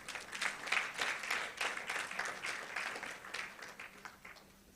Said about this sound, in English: he and all the editors represented here deserve our warm applause